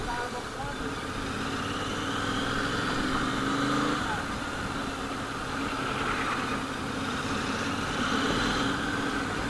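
A Royal Enfield Continental GT650 motorcycle, modified, rides through heavy city traffic, its engine a steady droning rumble with wind noise throughout, no speech.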